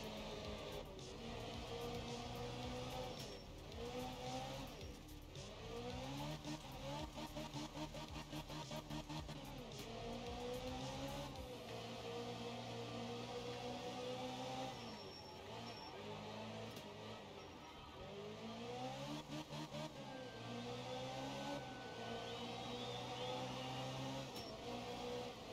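A rally car engine in the game Art of Rally climbing a hill, revving hard through repeated gear shifts with rising and falling pitch, a continuous, fairly quiet drone with no talking.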